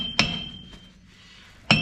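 Two sharp, ringing metal hammer strikes land on a ball joint of a third-generation Dodge truck, one early and one near the end, each leaving a bright, lingering clang.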